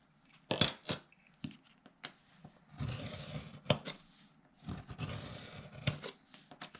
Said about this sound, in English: Then I am going to trim away the remaining chipboard.